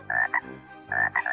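A frog sound effect gives two croaks in quick succession, each a pair of loud, raspy bursts separated by a short pause, clear and close with no other sound.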